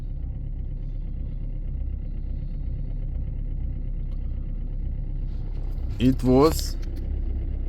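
A diesel engine idling after a cold winter start without glow plugs, a steady low rumble throughout with someone speaking briefly over it near the end.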